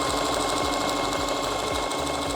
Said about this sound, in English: I first have to sew these pieces together to make one skirt